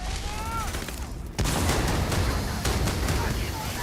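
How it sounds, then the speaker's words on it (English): A sci-fi shooter firefight fills the space with sustained dense gunfire and a sharp explosive jolt from a pulse grenade partway through, loud and continuous. "Oof, pulse grenade."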